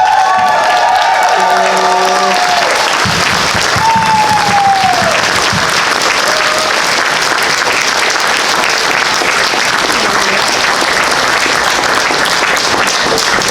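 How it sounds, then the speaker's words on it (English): A convention opening ceremony audience breaks into sustained applause with scattered cheers, loud and dense throughout, with brief voices and tones audible at the start before the clapping takes over. "I want one big, hearty, healthy round of applause for our community guests."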